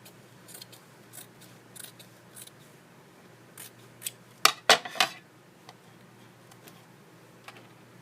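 Scissors cut fabric for clothes for a 14.5 inch Wellie Wisher doll. A few light, scattered snips are followed by a quick cluster of crisp, close cuts near the middle, then one faint snip.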